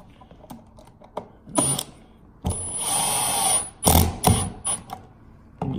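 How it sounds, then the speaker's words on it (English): A power drill drives screws to fasten a duplex electrical receptacle to a wall box, heard as several short whirring bursts close by, with one longer run in the middle and clicks and handling noises between bursts. "And then you can use your drill here and just screw this down."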